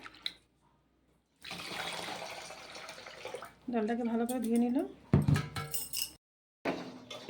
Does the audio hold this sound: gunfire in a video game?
no